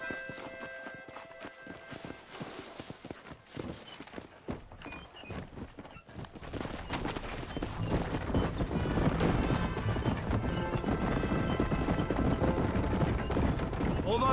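Steady hoof clip-clop from a horse in motion in Red Dead Redemption, growing louder and busier partway through, with voices and game-style background sounds mixed in.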